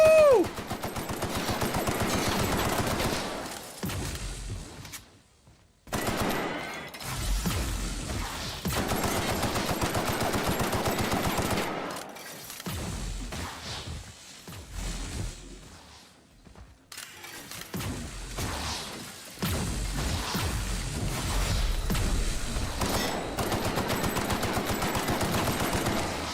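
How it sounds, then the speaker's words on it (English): Video game gunfire in The Outer Worlds aimed at the player, long rapid bursts of shots broken by brief pauses, loud and close, with a voice occasionally mixed in. "Stop shooting me with that thing!"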